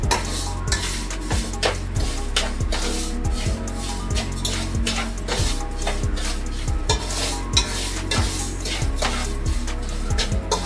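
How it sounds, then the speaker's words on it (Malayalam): Semolina being stirred in ghee in a pan, loud rhythmic scraping strokes and repeated metallic knocks of the utensil against the pan over a continuous low sizzle. "നമുക്ക് ഈ റവ നന്നായിട്ടൊന്ന് ഇളക്കാം. നമ്മുടെ റവ ഈ നെയ്യിൽ നന്നായിട്ട് മിക്സ് ആകണം."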